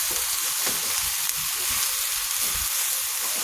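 Polao rice for biryani is stirred and fried in a pot, a loud, close, continuous sizzle with scraping stir strokes running underneath throughout.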